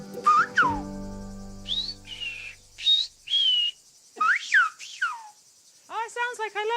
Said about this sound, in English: I can understand whistling now.